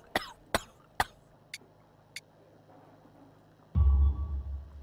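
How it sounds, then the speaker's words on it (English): Three sharp coughs in quick succession, then two fainter ones, from a severe cough in the video game Sherlock Holmes: The Devil's Daughter, followed by a heavy low rumbling burst near the end. "You have a severe cough. Are you suffering?"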